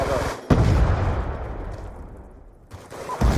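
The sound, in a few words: grenade explosion in a Call of Duty video game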